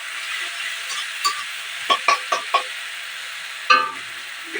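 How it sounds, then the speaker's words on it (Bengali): A paste of green chili, ginger, garlic and cumin sizzles in a pan under a soft frying hiss, punctuated by several sharp spatula scrapes and clacks as it is stirred. "ভালো করে কষিয়ে নেব।"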